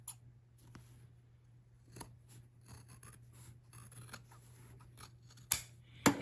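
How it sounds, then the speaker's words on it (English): Utility scissors snipping across a fabric zipper, several quiet dry cuts and rasps over a low steady hum, with a sharper louder snip near the end. "we'll use these utilitarian scissors to cut across that zipper"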